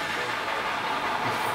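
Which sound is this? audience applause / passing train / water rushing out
passing train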